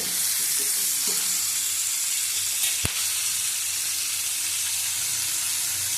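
Pumpkin, potato and pointed gourd fry in oil with a pinch of turmeric, giving a steady, close sizzle. It runs throughout without a break, with a sharp tap near the middle and no talking.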